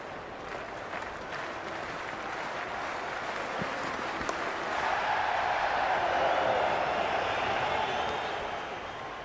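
A stadium crowd in the video game Cricket 26 keeps up a steady roar that swells toward the middle and then eases, while a commentator talks over it.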